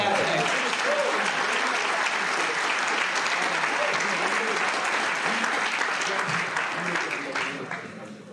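Sustained applause from a crowd at a crossword puzzle tournament final, honoring the puzzle constructor; dense steady clapping throughout, thinning slightly at the end, with some voices mixed in.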